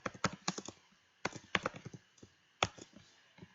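Quick clusters of close keyboard typing: short bursts of crisp key taps separated by brief pauses, clear and alone without talk.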